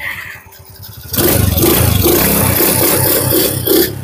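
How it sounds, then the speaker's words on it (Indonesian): A Honda C70 motorcycle cranks on its electric starter and catches at once, settling into a loud, close, rapidly pulsing idle after a second of quiet handling sounds. "double starternya guys satu kali tombol langsung cek"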